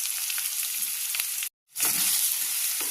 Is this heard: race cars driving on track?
no